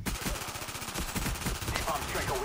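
MPL submachine gun with dual magazines fires a rapid, continuous burst in a first-person shooter game, dense and steady throughout.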